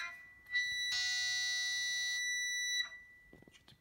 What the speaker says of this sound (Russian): Что-то пищит какая-то струна.